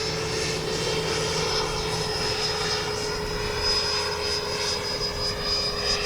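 A 90mm Eurofighter RC jet with a ducted fan flies in to land, making a steady, fairly loud whining drone with a high tonal edge that holds evenly, with slight swells as it passes.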